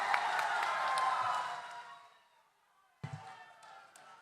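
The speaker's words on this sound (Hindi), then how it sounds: "तो तालियां बजा दो, तालियां बजा दो।" A crowd at a public meeting in Bhubaneswar, Odisha claps in a dense burst of applause that fades out, then a second smaller round of clapping starts after a short pause.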